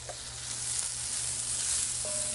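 Broccoli and white onions sizzle in a hot Lodge Cook It All cast iron pan used as a wok, a loud, even frying hiss filling the whole moment without pause.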